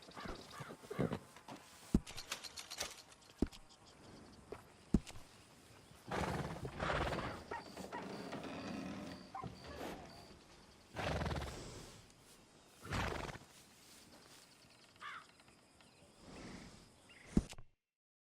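Horses in Red Dead Redemption 2, faint hoof clops and snorts scattered through a quiet outdoor scene, with a few sharp clicks and crow-like caws breaking in here and there.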